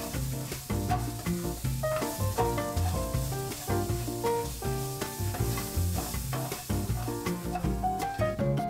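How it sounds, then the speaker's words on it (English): Shrimp sauté and sizzle in a pan while being stirred, with a steady, moderately loud frying sound and rhythmic stirring strokes, heard without talk. "And just saute this for a minute or so."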